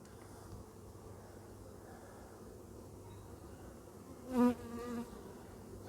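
Honeybees hum in a steady low drone around an open hive during an inspection, with a brief louder buzz as one passes close near the end; no one speaks.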